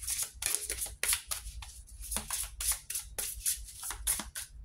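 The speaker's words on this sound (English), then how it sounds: "I don't want to pull a card on my own, so I will just keep shuffling." Tarot cards shuffled by hand in a steady run of crisp riffles and soft slaps, close to the microphone and carrying on throughout with no talking.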